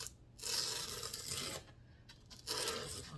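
A dull knife saws through a paper gift bag, making rough tearing and scraping strokes in two or three close bursts separated by short pauses, with nobody talking.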